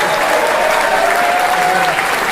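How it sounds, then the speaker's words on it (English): Steady applause from a concert audience fills the room, dense and continuous throughout at a close, loud level with no voices standing out. "Scott should maybe get a special round of applause actually"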